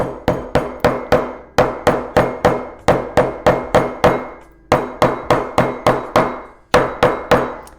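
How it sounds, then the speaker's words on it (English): Sharp hammer strikes on leather during leathercraft, delivered in quick groups of evenly spaced blows with brief pauses between runs, close, loud and clear with no talking. "I want to hammer those little spots"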